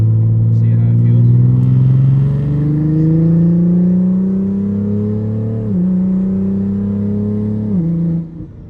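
Toyota A90 Supra fitted with a Precision 73.9R turbo pulls at half throttle, a loud, steady engine drone climbing in pitch, briefly dipping at two gear shifts before continuing, then easing off at the end.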